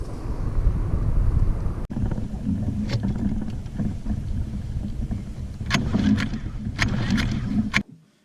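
A Mercury outboard motor, just repaired after a stall with its carburetor reassembled, runs on a test with a steady low drone for about eight seconds, briefly dipping once, with a few sharp knocks over it before it cuts off.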